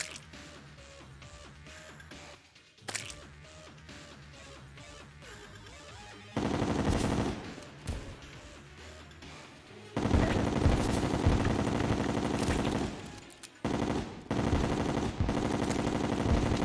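Chlorophyte bullets firing in Terraria, loud rapid bursts of gunfire in sustained volleys broken by short pauses, layered over busy game music and effects.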